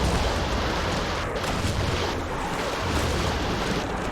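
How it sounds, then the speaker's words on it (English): Fireworks bursts and spraying water on an indoor amusement ride boat following a stream, a dense loud wash of hiss and rumble with soft thumps throughout. "Fireworks and water coming at us right now."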